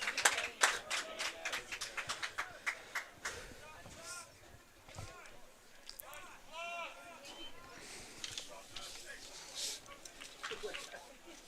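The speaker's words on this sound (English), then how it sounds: "Mostly some varsity football athletes cheering on their younger comrades" Student section cheering and clapping at a JV high school football game, St. Alban's at St. Christopher's, mostly varsity players; scattered claps and whoops at the start, then a steady crowd murmur with shouts, under an announcer's talk.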